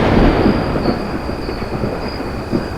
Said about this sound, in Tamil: இடி மின்னலுமா இருக்கு? மழை வருமா?